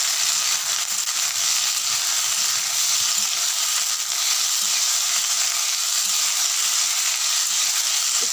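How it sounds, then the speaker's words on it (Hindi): Potatoes and onion leaves frying in a pan, a dense, even hiss of sizzling oil that holds steady throughout, close and loud with faint stirring beneath. "प्याज का पत्ता और आलू का अच्छे से हम 3 मिनट तक भूनेंगे दोस्तों"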